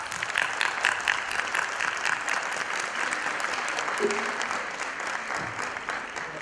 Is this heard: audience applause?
yes